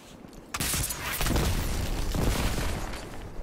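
Rocket launcher fire and explosions in the shooter game Destiny 2 during a competitive match, a sharp launch followed by loud booming blasts and a rumbling, roaring tail, close and heavy.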